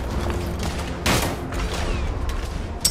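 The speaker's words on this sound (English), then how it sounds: "The crew, lay down suppressor fire!" Suppressing gunfire crackles in The Order: 1886 video game, with one strong burst of shots standing out over a steady background of battle noise and mechanical clatter, and no talk.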